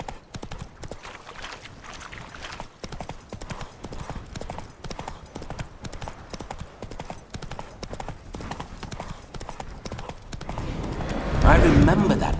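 Horse hooves clip-clop in a steady walking rhythm in the video game The Witcher 3 and stay close and clear throughout. The clopping grows louder and busier toward the end.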